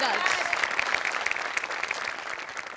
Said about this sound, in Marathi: तुझ्यासाठी विशेष टाळ्या